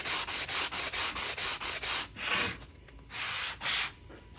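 A chalk-painted piece is hand-sanded with quick rhythmic strokes, about nine fast rasping passes in a row followed by a few slower, longer scrubs, close and alone without talk.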